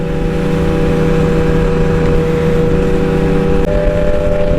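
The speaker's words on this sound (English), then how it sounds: "Man, that exhaust is loud." Loud motorcycle exhaust holding a steady, rumbling rev, close and dominant throughout with a continuous throaty drone and no talk.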